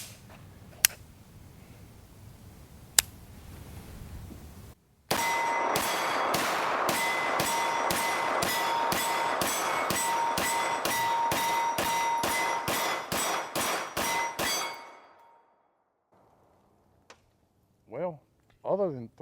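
A Kimber 2K11 stainless pistol fires MagTech steel-cased ammunition in a rapid string of about twenty loud, sharp shots, preceded by two faint clicks, with brief speech afterward.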